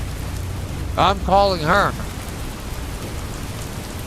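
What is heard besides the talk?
rain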